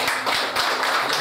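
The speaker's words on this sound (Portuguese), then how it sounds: "Acho que uma salva de palmas" Churchgoers clapping at a pastors' installation service in an Assemblies of God church, a short burst of brisk, fairly close hand claps with some individual claps standing out.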